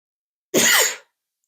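A single loud, close sneeze bursts out after a moment of silence, then cuts off.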